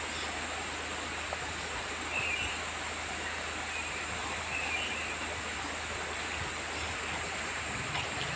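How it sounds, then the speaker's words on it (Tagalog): A freshwater river flows steadily past a bathing spot, its rushing, babbling water forming a constant close wash of sound with no voices. "marami rin ang gantong paliguan, mga ilog na fresh water pa"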